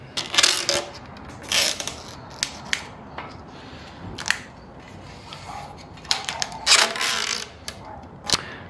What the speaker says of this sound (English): I'm going to go ahead and take the new tape and apply it to the rim.